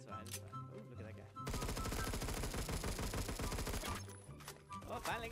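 Rapid automatic gunfire in the Roblox shooter Phantom Forces, a dense burst of evenly spaced shots lasting several seconds, with game sounds and a voice around it before and after.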